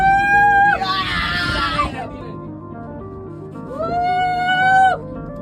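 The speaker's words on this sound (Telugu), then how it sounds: "ఇక్కడ మాత్రం అరుపులే ఇంకా" Loud high-pitched screams from riders on the Kailasagiri ropeway, two sustained shrieking bursts near the start and end over a bed of crowd noise and chatter.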